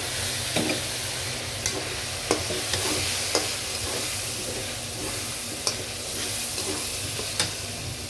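Spice paste for a home-style chicken dish sizzles steadily in a pan, with occasional sharp clicks and scrapes of stirring close by and no voices.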